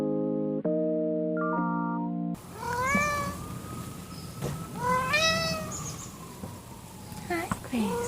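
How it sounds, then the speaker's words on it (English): After a short synthesized chime melody, a cat meows several times at close range, with rising and falling calls and longer drawn-out cries against soft background noise. "you will be getting some nice cat insert footage here"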